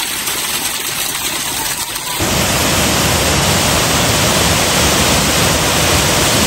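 A waterfall roars as a loud, steady wash of noise that starts abruptly about two seconds in and follows a quieter stretch of outdoor ambience.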